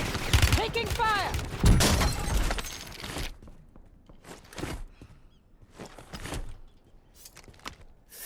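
Gunfire in the shooter game Warzone: dense, loud bursts overlapped by a talking voice at first, then scattered sharp shots and crackles at moderate distance over a quieter background.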